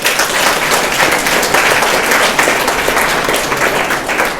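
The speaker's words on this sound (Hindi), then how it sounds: "तो पहले तो स्कूल सिस्टम के लिए भी तालियां हो जाए।" Loud, dense applause from a school audience of students, teachers and parents, sustained rapid clapping throughout with no talk over it.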